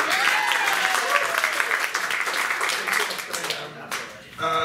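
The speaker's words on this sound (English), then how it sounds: "Mike, round of applause for Mike." An audience at a comedy road show breaks into steady, full applause that gradually thins out, with voices and laughter mixed in before a speaker resumes at the end.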